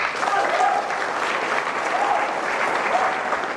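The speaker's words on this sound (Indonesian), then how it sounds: "Bapak Sunario, aplaus dulu untuk." A seated audience at a business meeting applauds their founder with continuous, fairly loud clapping that holds steady throughout.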